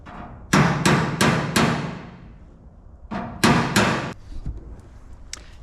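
Hammer blows on buckled steel quarter panel metal of a 1967 Chevelle, four sharp close strikes in quick succession, a pause, then three more ringing taps.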